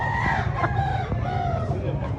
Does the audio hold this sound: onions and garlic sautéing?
no